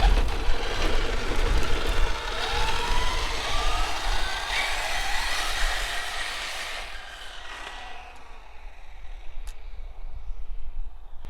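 A Traxxas Slash 4x4 RC truck geared 21/54 drives on throttle outdoors, its electric motor giving a steady whining drive that fades as it pulls away, with wind noise and no talking.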